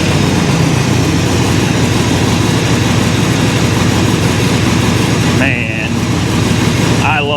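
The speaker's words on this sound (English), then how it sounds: "Let's fire it up." A 2021 Harley-Davidson Road King motorcycle engine idles loud and close with a steady, throbbing low rumble throughout, with a couple of brief higher tones near the end.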